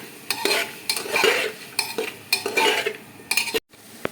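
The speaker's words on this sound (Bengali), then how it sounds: "ভালো করে নেড়ে দেবে" A spoon scrapes and stirs chicken stew in a cooking pot after salt goes in, giving rhythmic scraping strokes about every half second over a soft sizzle, with a brief pause near the end and no one speaking.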